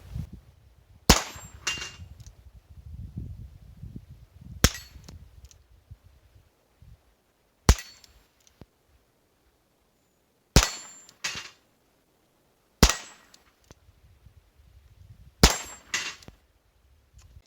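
Sharp .22 Long Rifle gunshots ring out one at a time at spaced intervals, each followed a moment later by a bright metallic clang of a bullet striking a steel plate.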